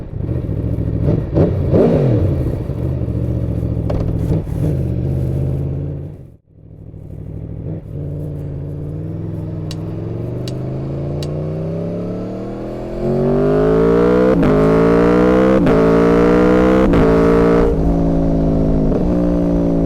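An Aprilia V4 Tuono Factory motorcycle ridden on dry, twisty roads: a close, loud engine note that dips briefly, then climbs through rising revs and gear changes, with wind noise throughout.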